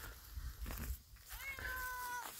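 A cat meows with a drawn-out, rising cry, preceded by a few scuffling noises nearby.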